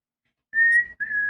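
A person whistles a short tune in two clear, sustained high phrases, with a small gap between them, loud and close after a moment of silence.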